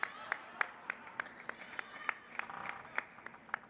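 Sparse, scattered applause at a table tennis World Cup match in Macao: a few people clapping at a steady rhythm, faint and distant, with no voices.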